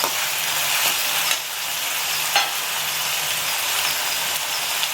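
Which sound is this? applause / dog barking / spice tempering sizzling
spice tempering sizzling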